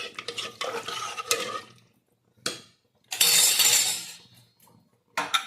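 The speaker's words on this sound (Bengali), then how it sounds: "লবণ অল্প দিয়ে নাড়াচাড়া করে দিব" Meat biryani being stirred with salt in a cooking pot, with bursts of scraping and clinking from the spoon against metal separated by short quiet gaps, close and fairly loud.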